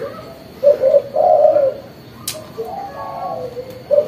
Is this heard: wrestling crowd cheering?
no